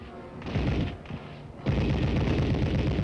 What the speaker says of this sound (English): Machine guns and tanks are brought into play as this realistic game of war continues without benefit of rule books